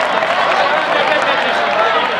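A university audience at a motivational speech applauding two winning children, a steady wash of many hands clapping at once, broad and sustained, with crowd noise mixed in.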